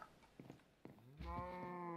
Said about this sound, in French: Allez les vaches.